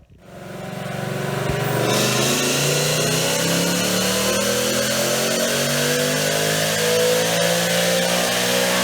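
A 2019 Ford Mustang fitted with a Whipple Stage 2 supercharger revs on a dyno, the engine climbing from a low idle into a loud, sustained, rising roar with supercharger whine, close and continuous.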